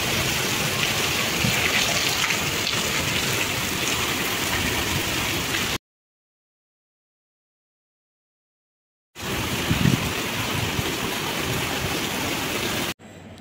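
Steady rain falls during rainy evening weather, a dense continuous wash of patter that runs for several seconds, drops out to silence, then returns just as full before cutting off.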